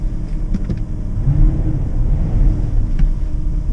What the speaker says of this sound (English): The car's actually running at the moment